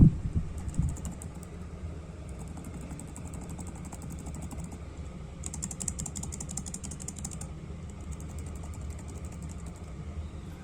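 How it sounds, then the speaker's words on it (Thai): Keys on a Lenovo IdeaPad Gaming 3 laptop keyboard are typed steadily, with rapid soft clicks close by that come in bursts, the busiest stretch falling near the middle, over a low constant hum. "เสียงคลิก ว่าไม่ได้ดังมากนะเสียงกำลังดีฟัง"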